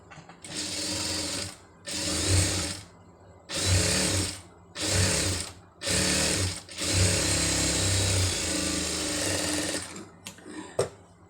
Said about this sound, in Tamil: இதை அப்படியே மடித்து தையல் போடுங்க.